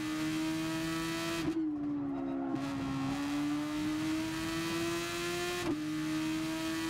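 A Super Formula race car in the video game GT Sport, its engine holding a steady high-pitched drone that dips briefly on gear shifts, loud and close with no talking.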